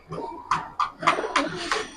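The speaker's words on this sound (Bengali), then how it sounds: "আনার চোখের কবুতর" Giribaz highflyer pigeons cooing inside a loft, a series of about five soft, pulsing coos in quick succession, close and fairly quiet with no speech.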